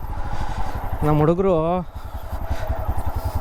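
A motorcycle engine runs steadily along a forest trail near Kudremukh, its mid-pitched drone continuing under a man's nearby speech.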